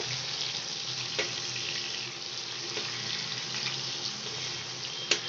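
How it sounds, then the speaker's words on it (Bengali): Fish frying in oil in a wok, a constant close sizzle with a few small pops and a louder spatter near the end, steady throughout. "তো আমি কড়াই মাছগুলো দিয়ে দিয়েছি।"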